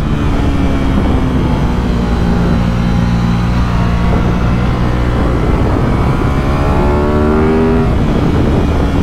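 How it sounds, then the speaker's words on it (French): An Aprilia RS 660 twin-cylinder motorcycle engine roars loudly at full throttle out of a curve, its pitch climbing steadily as it accelerates under heavy wind rush. "En sortie de courbe, je mets plein gaz."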